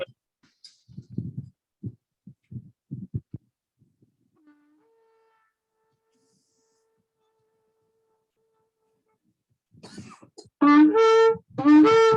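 A few short, dry coughs come early and separately, then quiet, then a loud, tonal shofar blast closes the clip.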